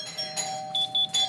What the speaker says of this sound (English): He wants to ring the doorbell